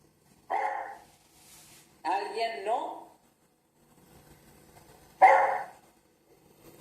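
A dog barks nearby: two sharp barks close together, then a third after a pause. A quiet voice speaks briefly in between.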